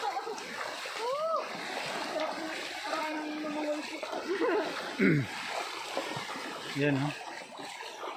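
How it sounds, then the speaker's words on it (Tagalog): Running water of a cool stream flowing and splashing continuously close by, under casual conversation and short remarks from people nearby. "Kasi running water siya eh."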